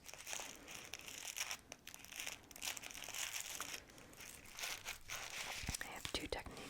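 Soft tissue paper crinkles and rustles steadily while a gift is folded and wrapped, close and quiet, with faint whispering underneath.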